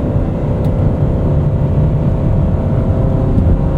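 Aston Martin DB12 with its AMG V8 driven on a wet road, a steady low engine drone and rumble that holds loud and even throughout with no voices.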